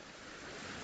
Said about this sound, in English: The wind is blowing an absolute hoolie at the minute